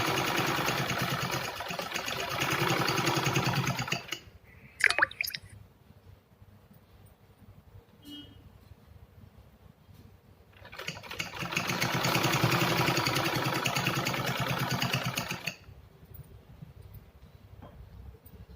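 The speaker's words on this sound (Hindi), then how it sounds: "धीरे धीरे हम इसको मोड़ते जाएंगे और सिलाई हमारी लगती जाएगी इस तरह से" Sewing machine stitching a fabric organizer, running in two long steady bursts of fast mechanical whirring with a quiet pause between them, close and fairly loud.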